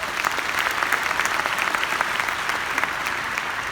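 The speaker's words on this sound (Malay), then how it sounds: "Satu tepukan untuk anda." A room full of people at a recognition event claps for award recipients, steady dense applause throughout at moderate loudness with no voices over it.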